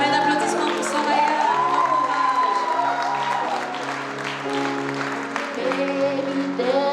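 An audience at a Black History Month 2024 event applauds a singer, the clapping and cheering running steadily underneath sustained sung and musical tones.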